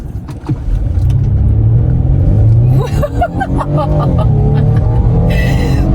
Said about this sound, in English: let's see what this four-banger can produce